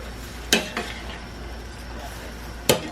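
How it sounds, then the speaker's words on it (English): Utensil stirring peppers and onions in a pan, with two sharp scrapes or clinks against the pan and a softer one over a steady low background, no talking. "Just keep stirring it, because you don't want to make the peppers too mushy and the onions too mushy"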